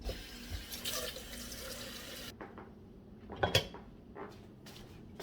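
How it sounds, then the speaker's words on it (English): Water runs from a kitchen tap and is poured into a cooking pot for salami soup, a steady rushing flow that stops halfway, followed by a few clinks and knocks of the pot and utensils. "I am pouring it in here"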